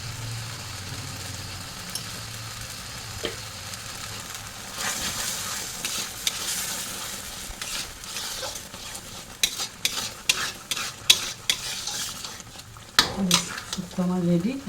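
Ghee sizzling in a pan while shukto, a Bengali vegetable dish, finishes cooking; a steady low frying hiss with stirring scrapes and clinks, growing busier toward the end with a few sharp utensil knocks.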